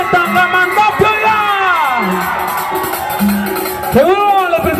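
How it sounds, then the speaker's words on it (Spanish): Crowd at a live cumbia concert in Tangamandapio, Michoacán shouting and cheering loudly, with whoops and yells rising in bursts over a sustained roar of many voices. "queremos escuchar un grito bien fuerte de toda la gente de Tangamandapio"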